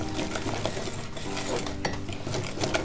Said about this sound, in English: I want to add a little bit first, give it a mix, and then continue adding the flour.